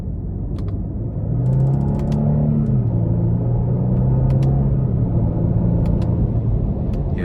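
Genesis G80 3.5-litre twin-turbo V6 pulling hard under acceleration, a loud, steady low engine drone rising in pitch over several seconds from inside the cabin, alone with no talk.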